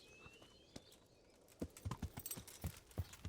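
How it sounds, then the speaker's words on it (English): Horse hooves clip-clop in the medieval game Kingdom Come: Deliverance, a faint scattered few steps at first, then a quicker, louder run of hoofbeats as the horse speeds up. "Even faster horse."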